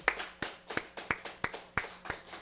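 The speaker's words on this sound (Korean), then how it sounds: "그런 우리 하나님께 영광의 박수 한번 올려드립시다." A Korean church congregation claps in a slow, even rhythm, about eight distinct sharp claps spaced roughly a third of a second apart, fairly quiet and with no talk.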